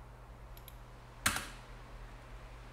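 A few soft computer keyboard taps, then one quick burst of keystrokes near the middle as an IP address is typed in a quiet room.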